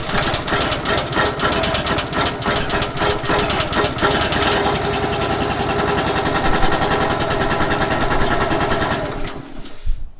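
A small petrol pressure washer engine with its choke on starts and runs, a loud, rapid buzzing putter that holds steady for several seconds before cutting off abruptly.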